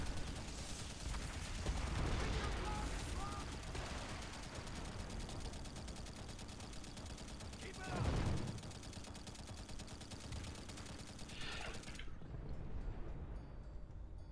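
Tank turret guns fire in Call of Duty: World at War, a dense continuous barrage with rattling bursts and a heavier blast partway through, at a moderate level before cutting off abruptly near the end.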